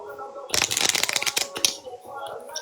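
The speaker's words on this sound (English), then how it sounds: "How many times you want me to shuffle?" A deck of playing cards is shuffled up close, a quick burst of rapid riffling flutter lasting about a second, followed by a few softer taps and handling sounds.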